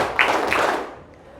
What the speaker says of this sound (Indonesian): Tepuk tangan tiga.